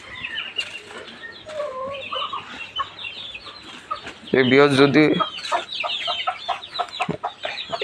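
A young rooster gives one loud, strained crow lasting about a second, with hens clucking around it, a flutter of wings and a few spoken words nearby.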